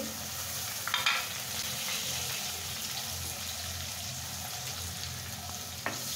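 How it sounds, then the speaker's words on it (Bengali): Chopped onions and garlic frying to brown in a pan, a dense, steady close-up sizzle with a couple of brief utensil scrapes and no talking. "এখন এটা আমি খুব সুন্দর করে ব্রাউন কালার করে ভেজে নেব"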